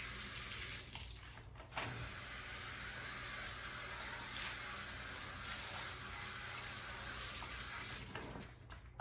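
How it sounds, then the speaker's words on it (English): Steady stream of water rinses a car wheel during tire cleaning, a continuous close hiss that runs almost the whole time, briefly easing near the start and end. "Make sure you continually rinse your wheel off each time too."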